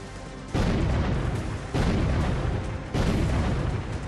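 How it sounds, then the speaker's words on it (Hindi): Russian missiles striking Ukraine's Neptune missile factory produce three heavy booming explosions in sequence, each a sudden loud blast followed by a rumbling, roaring tail that carries into the next. "शुक्रवार अल सुबह रूस ने धड़ाधड़ 5 मिसाइलें इस फैक्ट्री पर बरसा दी।"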